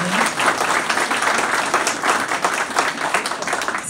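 Steady, dense applause from an audience at a civic ceremony honoring distinguished figures in Huancayo, continuous and fairly loud throughout with no talk over it.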